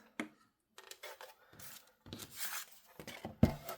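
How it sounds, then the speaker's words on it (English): Scissors cutting 6x6 craft paper, close-up snips and rustling paper in short irregular bursts with a sharp clack near the end, quiet and without talking. "And now I'm going to cut this."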